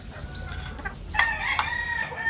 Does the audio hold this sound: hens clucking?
yes